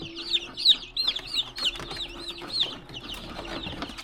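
Flock of lavender chickens, including mean flogging roosters, clucking and calling in quick repeated bursts close by, with wing rustling and no talk.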